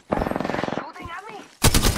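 Video game gunfire crackles in a rapid burst of close machine-gun shots, breaks off under brief shouted speech, then returns as another loud burst.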